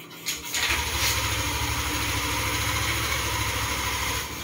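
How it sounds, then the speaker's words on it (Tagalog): Car engine running at a steady idle during a fuel injection cleaning, a close, low rumbling hum that starts after a brief clatter and holds evenly until it fades near the end. "na-start na natin ang ating engine"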